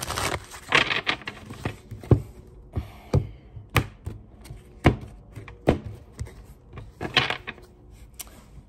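Tarot cards shuffled by hand at close range, producing a steady series of sharp taps and thumps of cards knocking together roughly every half second, with no voices.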